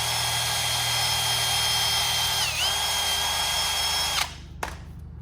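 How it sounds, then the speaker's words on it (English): A power drill whines steadily at high speed for about four seconds, dips briefly under load, then cuts off sharply, followed by a faint click. "I'm gonna go ahead and drill this hole right here."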